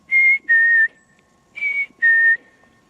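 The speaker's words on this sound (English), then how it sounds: "The black-capped chickadee has a very distinctive sound." A black-capped chickadee gives its clear whistled call, two pairs of pure tones, each a higher note dropping to a slightly lower one, heard alone and close against a silent background.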